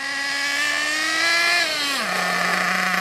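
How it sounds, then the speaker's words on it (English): An Ansmann Virus 2.0 BigBlock RC car's engine whines loudly and steadily, then drops sharply in pitch as it makes an emergency stop and settles to a lower, idling drone. "So I'm going to do an emergency stop towards the camera."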